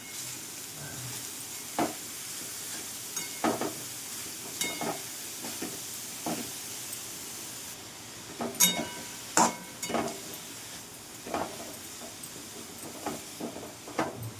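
Pumpkin halwa frying in ghee in a pan, with soft continuous sizzling and repeated scraping, stirring strokes of a spoon through the mixture, close by and moderately quiet, without talk.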